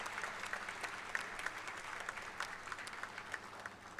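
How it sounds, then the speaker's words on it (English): An audience at a university convocation applauds medal of excellence recipients, with steady, dense clapping and no talk. "All of you may please once again applaud to the recipients of Medal of Excellence."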